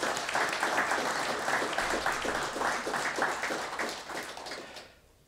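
A graduation ceremony audience for distribution network electricians at a Tallinn polytechnic gives warm, steady applause that holds evenly, then fades out quickly at the end.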